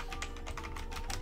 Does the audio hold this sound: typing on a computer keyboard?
yes